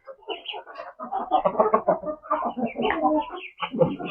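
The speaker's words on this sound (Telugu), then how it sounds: "ఫ్రెండ్స్ తినేస్తున్నాయి కోళ్ళు." Hens at a farmhouse peck at new feed, giving off close, busy clucking and soft calls in quick irregular bursts that continue without a break.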